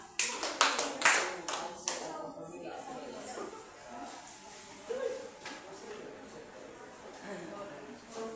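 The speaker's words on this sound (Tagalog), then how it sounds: "bigyan si Jean at Tesha ng 3 palakpak" A class claps in a quick cluster of sharp, close hand claps at the start, then the sound falls away to quieter room sound and a teacher's voice talking.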